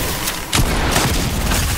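Loud, dense gunfire blasts from a solo-versus-trio arena shooter match form a continuous booming barrage across the short moment.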